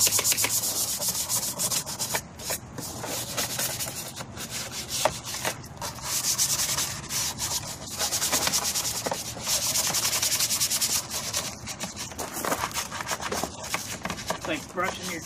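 A brush scrubs dirt off the casing of a used Honda EU2000i portable generator with steady, close scratchy rubbing strokes that continue almost without pause, with faint speech now and then.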